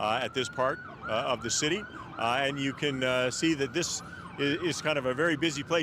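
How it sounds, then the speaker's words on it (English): Wailing emergency sirens rise and fall continuously through a busy downtown Edmonton street scene before a Stanley Cup final game, loud and close, while someone talks over them. "You can hear all that sirens in the background"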